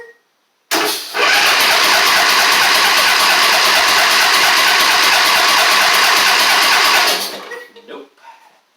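Husqvarna LGT2654 lawn tractor engine, long parked in a driveway, cranking over in one loud, steady unbroken churn for about six seconds before cutting off, followed by faint clinks.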